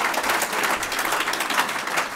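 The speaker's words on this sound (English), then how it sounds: "you're going to make loads and loads of noise, clap, cheer, stamp your feet and go wild" An audience at an awards celebration claps and cheers loudly, dense steady applause with shouts throughout and no pauses.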